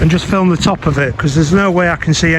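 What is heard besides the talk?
No distinct noise like a dog, phone or traffic.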